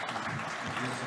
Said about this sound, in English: a big round of applause for all the members of the panel.